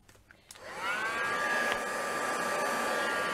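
A hair dryer drying a small decoupage bird plaque: a few soft handling clicks, then the dryer starts and ramps up into a steady, loud whirring blow with a whining motor tone.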